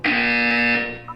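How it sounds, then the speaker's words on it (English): A loud electronic buzzer from the video game Portal 2 sounds once, a sustained harsh harmonic tone held for about a second before cutting off, with no talk over it. "When you hear the buzzer, look up at the ceiling."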